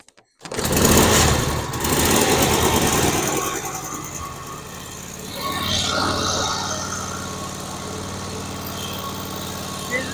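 A 1981 Harley-Davidson FXWG Shovelhead V-twin starts and runs steadily after a fouled spark plug, a loud close rumbling idle with a rev swell midway, continuous throughout.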